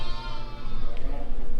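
Newborn lambs bleating in a lambing pen with ewes, a continuous, loud, close wavering cry filling the moment, with a faint voice underneath.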